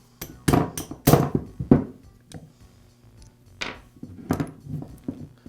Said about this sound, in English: I'm going to use a socket that's just barely smaller than the wrist pin and a mallet to tap it in the rest of the way.